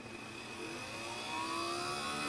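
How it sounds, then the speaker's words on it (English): A homemade cotton candy machine's motor runs steadily with a continuous whirring hum and faint high whine, growing slightly louder toward the end, with no talk. "I'm gonna turn on the motor"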